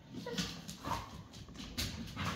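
A dog whimpers and makes soft yips in a few short bursts, faint and close amid quiet background noise.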